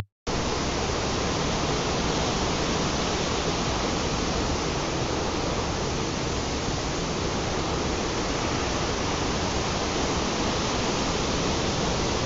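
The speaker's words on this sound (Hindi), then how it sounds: "वहाँ एक छोटा सा वाटरफॉल टाइप में दिख रहा है कुछ पीछे" Small waterfall at a zoo in Jamshedpur, India, giving a steady, dense rush of falling water that stays constant and fairly loud throughout, with no voices.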